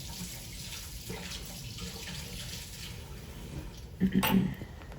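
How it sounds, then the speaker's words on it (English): A spoon is rinsed under a running kitchen faucet, with a steady soft water hiss followed by a brief louder burst of splashing and metallic clinks against the sink. "let me wash off my spoon just a second"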